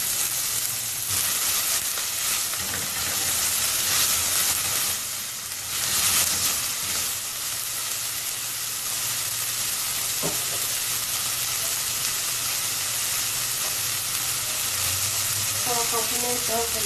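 Onion and garlic sautéing in a pan for a mock crab pie, a continuous loud sizzle with brief stirring bursts, and a short voice near the end.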